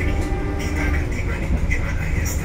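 A Logawa economy passenger train rolls into Jember station, a steady loud rumble and rattle of the carriages heard from inside, with no talk.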